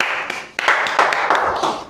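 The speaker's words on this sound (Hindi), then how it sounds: "ताली ठोको" Students in a class clap briefly in a few scattered, uneven bursts, close and fairly loud, with no speech over them.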